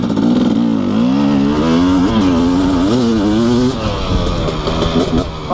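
KTM 250SX two-stroke dirt bike revving on a rocky mountainside, loud and close, its pitch rising and falling through repeated throttle blips before easing off near the end.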